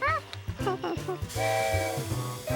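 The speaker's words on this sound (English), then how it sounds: "Steam coming out." A cartoon steamboat whistle blows as steam hisses out of a wide boat, a rising musical hoot followed by a sustained breathy hiss over bouncy background music.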